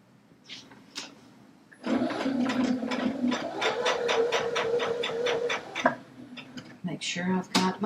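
A Baby Lock Allegro sewing machine piecing fabric seams runs in a fast, steady stitching rattle for about four seconds, close and moderately loud, with a few short bursts before and after.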